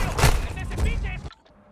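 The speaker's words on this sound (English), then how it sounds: "Of course the gunfire is gonna alert them, huh?" Rapid gunfire in Call of Duty Modern Warfare 2 comes as a loud, dense burst of shots that stops abruptly after about a second, leaving faint background noise.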